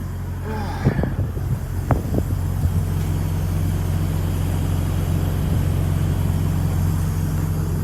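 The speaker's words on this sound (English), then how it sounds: "The air you're hearing right now are just the airbags airing up" Continuous low hiss and hum of the air suspension airbags inflating on a 2020 Peterbilt 579 truck, with a couple of brief knocks and a voice early on.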